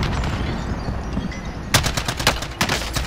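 Gunfire in the video game Call of Duty: Modern Warfare, a rapid burst of loud sharp shots in quick succession after a stretch of quieter background ambience, with a second short burst following.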